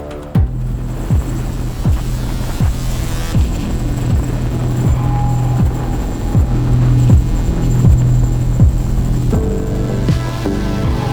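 A CH-47 helicopter hovers during a sling load operation with an A-22 cargo bag, giving a loud, steady throbbing drone with regular rotor pulses and a deep hum throughout.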